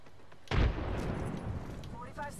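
A frag grenade detonates in a video game, a sudden loud close boom at about half a second that rolls off into a long rumbling tail with faint game noises behind.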